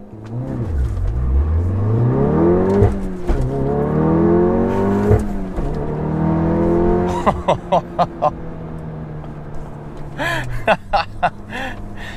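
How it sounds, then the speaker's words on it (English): An APR Stage 2 VW Golf R with all-wheel drive and an aftermarket race clutch launches hard. Its engine revs climb loudly and close through several gear changes, ending in a burst of sharp pops. "Let's put it in first, dump the clutch."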